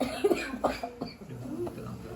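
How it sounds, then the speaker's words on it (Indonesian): A few short, muffled coughs sound close by, followed by quieter rustling and faint background noise. "Dokternya batuk."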